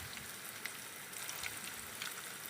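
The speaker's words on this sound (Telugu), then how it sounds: "వేడైన తర్వాత పునుగులు అలా వేసుకోవాలి" Punugulu batter dropped into hot oil in a kadai, giving a soft, steady sizzle and faint crackle, quiet and continuous with no voices.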